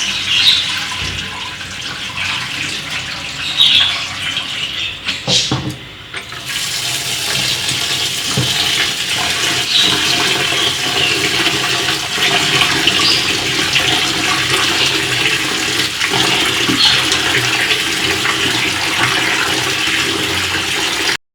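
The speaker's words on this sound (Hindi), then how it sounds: "चावलों को अच्छी तरह धो देंगे।" Rice washed in water in a home kitchen, a steady loud rush of running water with splashing that continues for about twenty seconds, close and alone.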